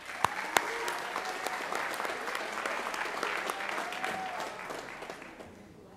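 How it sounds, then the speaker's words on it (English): Spring awards ceremony audience at a high school giving a round of applause for student athletes: steady, moderately distant clapping from a crowd, a couple of sharp claps standing out early, gradually thinning toward the end with no voices. "give them a round of applause"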